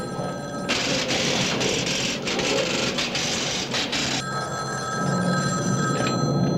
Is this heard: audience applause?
no